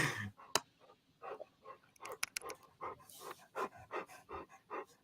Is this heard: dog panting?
yes